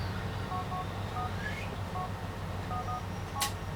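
A mobile phone in the video game Grand Theft Auto IV dials out, short paired keypad tones beeping at uneven intervals over a low steady background hum, followed by a brief sharp click near the end.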